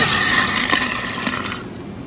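A pump fills the barrels of an Electro Freeze machine: steady rushing, gurgling flow of liquid, fairly loud and close, easing off near the end.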